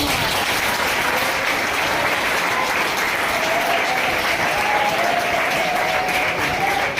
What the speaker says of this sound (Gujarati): એમનો પણ એમના માટે એકવાર તાળીઓ પાડો